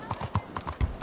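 Horse hooves clip-clop on the ground in the video game Red Dead Redemption 2, a quick steady rhythm of about nine close thuds at moderate volume.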